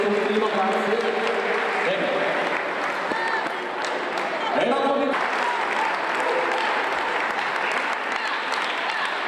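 A live audience applauds at an evening stage show in Italy, a dense, loud, steady wash of clapping that runs the whole time, with voices and cheering mixed in.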